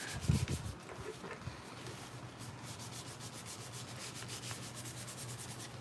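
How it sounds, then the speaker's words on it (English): A toy is sanded by hand, a steady close scraping rub that keeps a continuous rhythm after an initial knock, with no talking. "Hey, we're getting some sanding done tonight."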